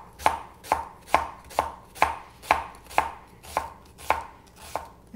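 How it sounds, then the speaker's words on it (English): A knife chops onion on a cutting board for guacamole, about ten crisp, evenly spaced thuds in a steady rhythm, close and clear with no talking. "I want it chopped, so I just make some cuts"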